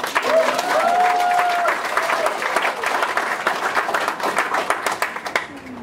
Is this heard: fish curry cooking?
no